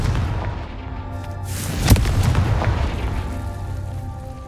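A single Confringo blasting spell in Hogwarts Legacy lands as a sharp, close boom about two seconds in, followed by a rumbling tail over steady game background noise.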